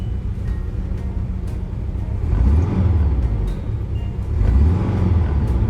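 The engine of a 1990 Volkswagen Vanagon Carat revs with a deep, steady rumble that swells louder twice as the throttle opens. It is a continuous, close, loud drone with no talking.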